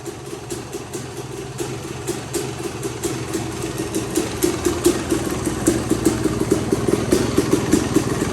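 A motorcycle engine idles steadily, running slightly rich, with a loud, even mechanical clatter and rhythmic pulsing that grows a little stronger over time. No voices.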